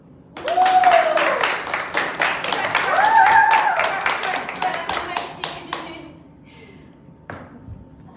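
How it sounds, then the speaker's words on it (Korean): Several people clap their hands during a K-pop singer's live stream, a burst of quick, uneven claps lasting several seconds while voices and laughter overlap, then fading to a few scattered taps. "박수."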